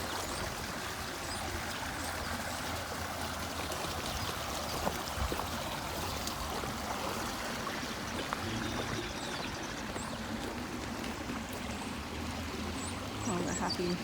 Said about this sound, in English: You can see the water rushing in.